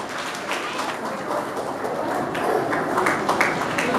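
Audience at a school Rabindra Jayanti and annual award ceremony breaks into a loud round of clapping, a dense crackling wash that swells slightly midway and holds steady.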